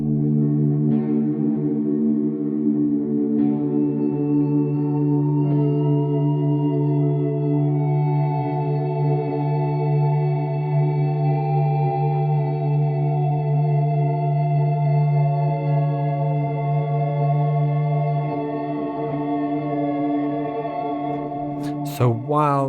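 A sustained, heavily effected guitar tone rings out with lush reverb and slowly bending pitch, ending in a brief wavering swoop.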